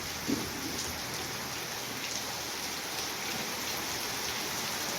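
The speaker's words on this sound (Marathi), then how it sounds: "किती असा जोर जोराने पाऊस पडतोय" Dense, steady hiss of heavy rain pouring down continuously during a windstorm, with no voices and little variation in loudness.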